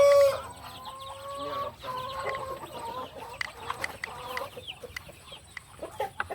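Free-range village chickens on a small poultry farm clucking and calling continuously, with a few higher squawks, moderately close and with no talking.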